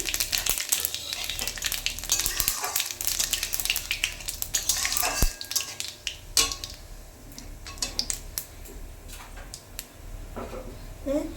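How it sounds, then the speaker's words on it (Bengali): Two bay leaves and white cumin seeds sizzle and crackle in hot oil for a tempering, with soft stirring and the occasional clink of a utensil against the pan, steady and close. "তারপরে তেজপাতা দুটো, তারপরে জিরে, সাদা জিরে ফোড়ন দিলাম আমি।"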